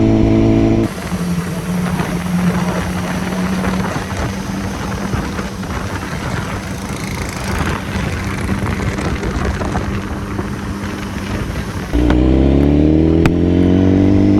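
A BMW superbike engine runs loud and steady on a street in Faisalabad, a sustained rough roar with a held tone that shifts to a higher, revving pitch near the end.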